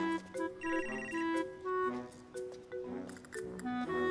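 A mobile phone ringtone plays an electronic melody in a repeating tonal pattern while the call goes unanswered, moderately loud and close, with no voices over it.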